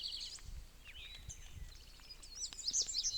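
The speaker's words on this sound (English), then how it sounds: "Birds." Birds sing and chirp in Shenandoah National Park, with several bright, short phrases at moderate distance, growing busier toward the end over a quiet outdoor background with faint low rumbles.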